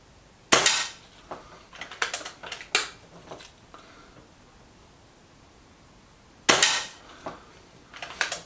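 A Reximex Pretensis .22 air rifle fires pellets, sharp sudden cracks nearby with short clatter after them, several shots spread out with quiet gaps between and no talking.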